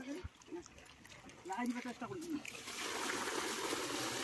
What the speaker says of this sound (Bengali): এই যে জলটা আবারও ঢালা হচ্ছে।